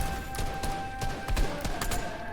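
Rapid gunfire from a Fortnite match, a fusillade of broadband cracks and bursts repeating across the stretch over a steady game background with a constant tonal hum.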